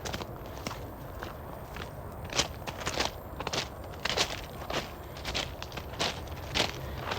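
Footsteps crunch steadily along a gravel trail through a park, each step a loud, close, irregular scrunch over a constant hiss of distant interstate traffic.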